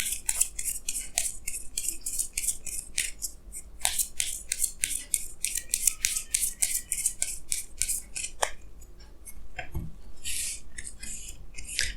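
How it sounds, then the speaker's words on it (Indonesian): Tarot cards drawn from a deck give a run of crisp, rapid papery flicks and shuffling snaps in irregular bursts, close and fairly quiet, with a brief pause near the end. "Jadi sini saya akan tarik lagi 2 kartu tambahan,"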